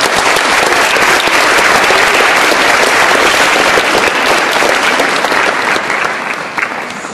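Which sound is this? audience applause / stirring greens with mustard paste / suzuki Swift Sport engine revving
audience applause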